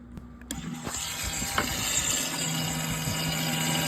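Fuel pump of a 1971 Oldsmobile Cutlass with a 482 Olds engine, powered by a portable jump starter: a few clicks as it connects, then a steady mechanical whirring hum that holds on.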